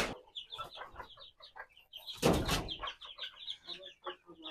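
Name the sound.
chickens clucking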